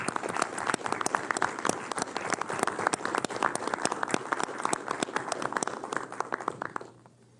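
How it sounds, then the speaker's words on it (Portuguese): An audience at a Brazilian ministerial event applauds, a steady crackle of many hands clapping that continues for several seconds and then fades out quickly at the end. "solicitar a todos uma salva de palmas para esse pessoal"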